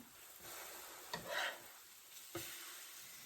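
French toast frying in a pan, a soft continuous sizzle with a couple of quiet scrapes as the slice is flipped, faint and close with no voices.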